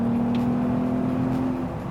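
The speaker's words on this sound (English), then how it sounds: "And we have that throaty VR6." A Volkswagen MK5 R32 VR6 car engine hums steadily with a sustained, throaty droning tone, then eases off slightly near the end.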